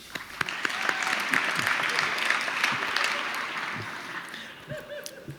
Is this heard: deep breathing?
no